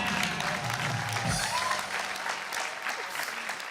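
Crowd clapping for a comedy performer named Nitin on a TV show stage, continuous applause at moderate volume with a voice speaking over it.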